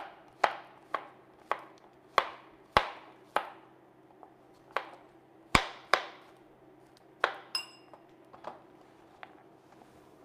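A knife slices zucchini on a cutting board in a run of about fifteen crisp, sharp chops at an uneven pace, close and clear against a quiet room.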